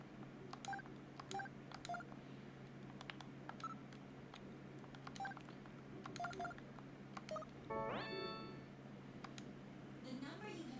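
A telephone number is keyed in the Sega CD video game Snatcher: a run of short, evenly paced dialing beeps at moderate volume, closing with a brief rising electronic tone.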